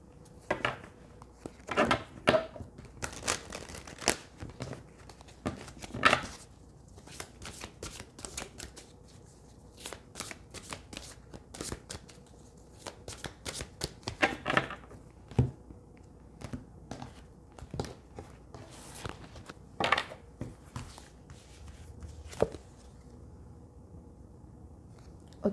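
Tarot cards being shuffled and drawn by hand, with repeated crisp riffling bursts and soft slaps at an uneven pace, close and fairly quiet.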